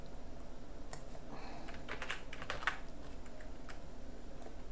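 Keystrokes on a computer keyboard tapped while editing a GRUB configuration file on Arch Linux, a quiet run of light clicks in short irregular bursts close to the mic, with no voice over them.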